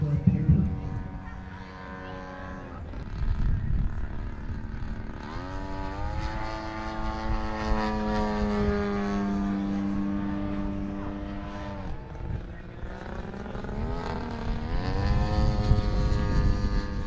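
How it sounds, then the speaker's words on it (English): A model propeller airplane flies at an annual airshow and fun fly, its engine a steady droning whine that rises and falls in pitch as it passes and circles, continuous and fairly close. "This is a awesome plane."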